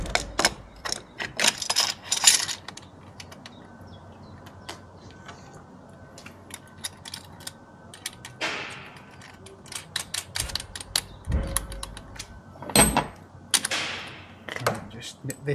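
Close, faint plastic clicks and ratcheting come from tightening the retaining clamp on a 40-inch reverse osmosis membrane housing in an Xline pure water filter. The sound is irregular and scattered, with brief bursts and quiet gaps.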